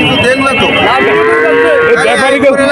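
Cattle lowing at the Shahpur cattle market, where the animals are thin and bony: loud, drawn-out moos that rise and fall continuously across the whole stretch, with faint voices behind.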